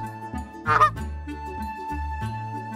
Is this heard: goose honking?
yes